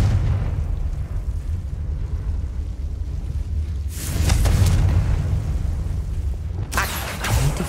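A Confringo fire spell explodes in the video game Hogwarts Legacy, a loud broadband burst cutting in over a steady low rumble, with a second blast following a few seconds later.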